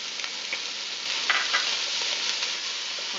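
Onions sizzling in a pan alongside browned sausages for a meatball sauce, a steady close crackling fry with brief louder pops and stirring bursts, no voices.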